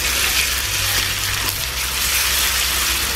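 Onions frying in a pan with ginger garlic paste, being stirred, give a steady loud sizzle with low scraping stirring sounds underneath, continuous throughout with no talking.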